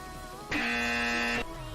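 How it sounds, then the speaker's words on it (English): An electronic game-show buzzer sounds once, a loud harsh nasal tone lasting about a second, alone against quiet background noise. "Sorry you said pineapple, so I had to press the buzzer."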